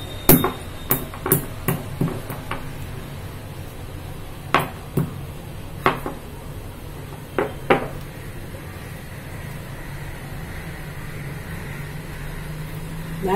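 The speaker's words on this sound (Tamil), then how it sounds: "5-6 மிளகாப்பா 1-2 இடிச்சு வச்சுக்கிறணும்." Black peppercorns pounded in a kitchen while a drink is prepared: a dozen or so sharp, separate thuds in uneven clusters over the first eight seconds, then a quieter stretch with faint low background hum.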